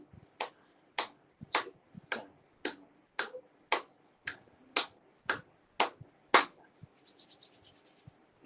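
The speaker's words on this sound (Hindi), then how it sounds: "और तालियां बजाएंगे 15 बार" Hands clap in a yoga session, a steady evenly paced run of about a dozen crisp, close claps. Softer scratchy rustling follows at the end.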